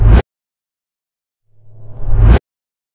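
A resonant whoosh made by pulling wheat bags across an oil barrel, layered with a reversed sub kick, swells from silence into a booming low rush and cuts off abruptly, after a short burst of the same sound at the start.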